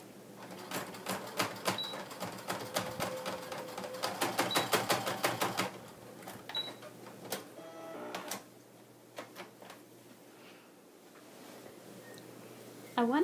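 A sewing machine stitches rapidly through the outer shell and lining of a braided fabric bag, with bursts of fast rhythmic needle clatter that stop and restart, close and fairly loud, then fade into quieter handling noises.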